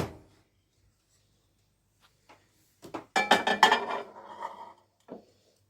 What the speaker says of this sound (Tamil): இப்போ இதை மைக்ரோவேவ் ஓவனில் நான் இதை வைக்கிறேன்